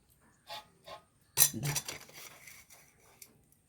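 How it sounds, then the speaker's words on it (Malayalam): Gentle stirring of food in a metal pot, heard as a few soft scrapes and a brief clinking burst of utensil against the pot, then quieter rustling, close and alone without talk. "ഒന്ന് ഇളക്കി കൊടുക്കട്ടെ മെല്ലെ"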